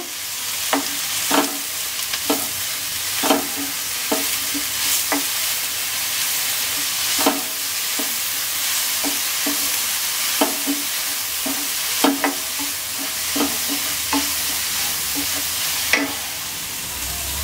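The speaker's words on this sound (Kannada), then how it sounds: "ಪುದೀನ ಸೊಪ್ಪು ಹಾಕ್ಕೊಂಡು ಸ್ವಲ್ಪ ಫ್ರೈ ಮಾಡ್ಕೊಳ್ಳಿ" Mint leaves fry in a pan for a chicken dish: a steady sizzle runs throughout, broken by regular sharp scrapes and clinks of stirring, close and fairly loud, with no talking.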